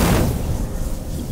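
A loud, booming burst of gunfire in Fortnite at the start, then a rough rumbling wash of noise that fades out over a moment.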